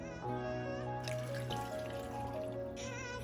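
Water trickles and pours steadily into a blender for a few seconds, a soft liquid splash beneath a constant low hum.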